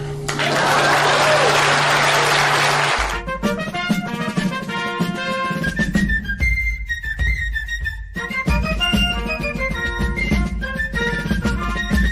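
Audience applause bursts out loud and dense for a few seconds, then cuts off abruptly as sung music with a clear melodic voice takes over for the remainder.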